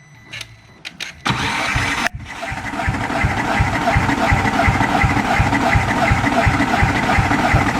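A VW MK4 Jetta 1.8T engine cranks with a spark plug removed, the gas pedal held to the floor. A few short clicks lead into a steady, rhythmic, loud starter churning that keeps going without catching.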